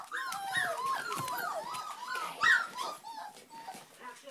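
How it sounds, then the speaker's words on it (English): German Pinscher puppies squeak and whimper in their nest indoors at night, a dense chorus of high overlapping yips and squeals from several pups close by, rising briefly louder midway and then thinning toward the end. "As if by magic, there's a puppy. We're all having a real squeaky lot tonight."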